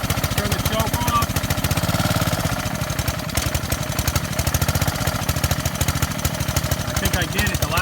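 A Ryobi 3100 psi pressure washer's small gas engine idles on choke, a loud, rapid, steady chugging throb that holds through the whole stretch with a slight roughness in its rhythm.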